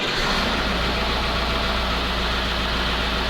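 An old KAMAZ 4310 military-style truck's diesel engine runs at a steady, loud, close idle with a deep, continuous rumble and no speech.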